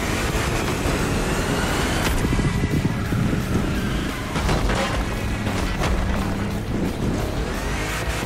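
A powerful big-block car engine roars loudly and continuously during a Gymkhana-style stunt run, its rumble mixed with heavy wind buffeting and no talking.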